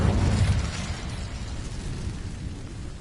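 An Incendio fire spell cast in Hogwarts Legacy, a loud whooshing burst of flame that fades into a rushing roar.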